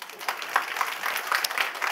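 Brief burst of church congregation clapping during a Sunday afternoon service, soft and somewhat distant, with scattered claps and faint murmuring voices in a large room.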